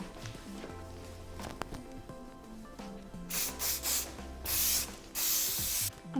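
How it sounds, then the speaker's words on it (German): Hairspray hisses from an aerosol can onto styled curls in several short bursts of two to three, fairly close, preceded by faint handling and rustling sounds. "Bisschen Abstand halten beim Sprühen,"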